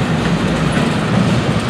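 Loud, steady rumble of 43 FEC freight train cars being shoved backwards, with a rhythmic clatter of wheels on track, close by.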